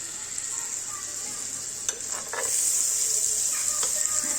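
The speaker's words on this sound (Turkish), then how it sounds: "Şimdi tereyağlar eriyene kadar bu şekilde kızaracak." Butter sizzling and frying steadily in a pan on a home stove, a continuous bright crackle that grows slightly louder halfway through, with a few faint clinks and no talk.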